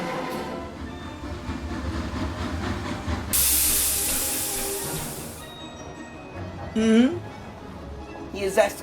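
A loud burst of hissing steam from a steam train erupts for a couple of seconds over rumbling machinery, with a voice briefly speaking nearby afterward.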